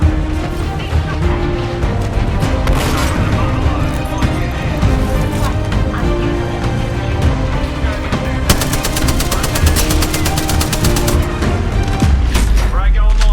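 Rapid automatic gunfire and bursts of shots from the video game Apex Legends, played as Revenant in Kings Canyon, fire loud and dense almost nonstop with impacts and crashes mixed in, over game music and effects.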